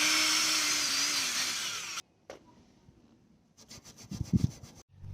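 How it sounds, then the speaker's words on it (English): A wire wheel scrubs the rear brake hub and carrier of a Mk6 Volkswagen Jetta, giving a loud, steady abrasive whir for two seconds, then stopping; scattered clanks and rattles follow. "I'm going to grab the wire wheel, clean up the hub, clean up the carrier"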